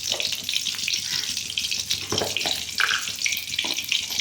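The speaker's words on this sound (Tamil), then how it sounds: "கருவேப்பிலை தழை கொஞ்சம் போடுறோம்." Curry leaves and mustard seeds sizzling in hot oil for murungai keerai poriyal: steady bright crackling and spitting, close and continuous, with a few sharper pops from the seeds.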